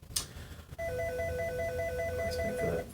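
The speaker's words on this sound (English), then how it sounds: "Let's wait for that phone to stop ringing." A telephone rings in repeated electronic double trills, each burst evenly spaced, fairly close and clear over a quiet room after a brief thump at the start.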